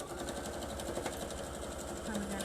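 A sewing machine runs steadily while stitching the corner of a fabric chair caddy, a continuous fast rattling hum, fairly quiet, with faint voices underneath.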